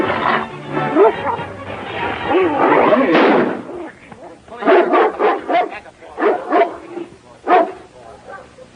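A dog in a 1937 Western barks and yips in short, loud bursts, several sharp yelps spaced irregularly, following a stretch of agitated male speech and scuffling.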